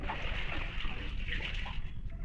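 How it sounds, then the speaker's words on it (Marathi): Water is drawn from a household well in summer, splashing and gushing steadily at close range with no talk over it. "आता मी जातो पाणी आणू आमच्या विहिरीत"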